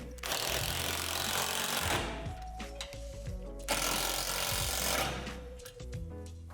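Playset hardware being tightened with a hand tool during assembly: close, busy bursts of clicking and ratcheting in two rough spells separated by short pauses.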